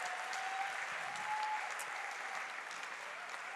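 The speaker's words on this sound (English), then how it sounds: "Can we have one final round of applause for all of our participants who are sat here on the end of the stage?" Steady, full applause from a summit audience for participants seated at the end of the stage, even and continuous throughout with no pauses.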